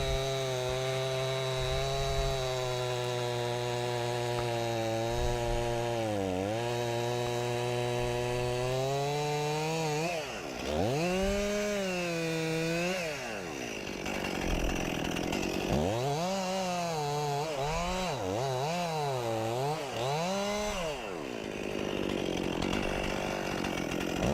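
A Stihl 261 chainsaw fitted with a 20-inch bar cuts through wood, the engine roaring loud and close with rising and falling pitch as the throttle works through the cut, briefly dropping before bogging into further cuts.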